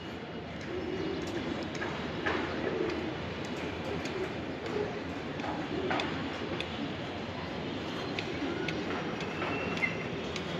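Pakistani teddy pigeons, racing-type birds, coo softly in a low repeating rhythm amid steady background hiss and faint ticking clicks, with no talk over them.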